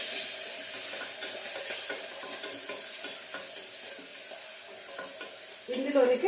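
Curry leaves fry in a pan as part of making tomato rice, giving a steady close sizzle with light stirring, and a brief louder clatter at the end.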